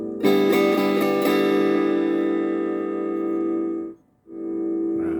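A sustained electric guitar chord from a Line 6 Pod Go rings out through small computer speakers, holding steady for several seconds before cutting out briefly and returning.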